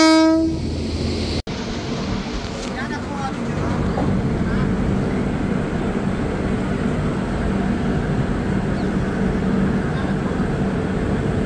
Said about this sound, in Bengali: এখন সেম লোকো মানে হাওড়া WAP7 কিন্তু আবার এই দিকে ট্রেনটা নিয়ে যাবে